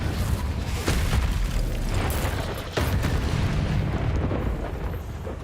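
Confringo spell blasts in Hogwarts Legacy give loud, dense explosive booms with crackling bursts. A fresh blast near the start and another partway through rise over a continuous rumbling roar.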